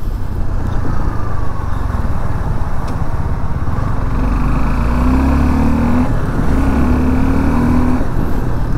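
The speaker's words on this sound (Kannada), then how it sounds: "ನೋಡ್ರಿ ಗಾಡಿ ಜಸ್ಟ್ 3rd ಗೇರ್ನಾಗ 100 ರೀಚ್ ಆಗ್ತದೆ ಗಾಡಿದು" A Hero Xpulse 200 4V motorcycle accelerates hard to 100 in third gear, its engine a loud, steady drone that climbs in pitch with a brief dip, under heavy wind rush.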